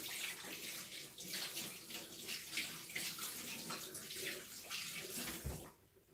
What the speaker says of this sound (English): I'm going to rinse my hand quickly.